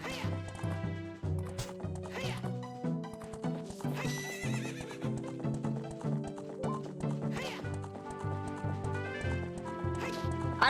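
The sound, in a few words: horse neighing and galloping in video game Ocarina of Time 3D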